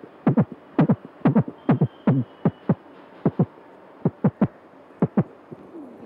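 A mouth imitating a heartbeat with rhythmic gulping, close double thumps repeating in irregular pairs and triplets with short pauses between.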